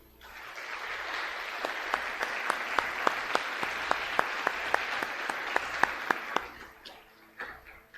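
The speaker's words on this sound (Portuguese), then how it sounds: "Dê um aplauso ao Senhor." A church congregation applauds during a Portuguese-language sermon, with a dense wash of clapping that swells, holds steady for several seconds with some sharper individual claps standing out, then fades away.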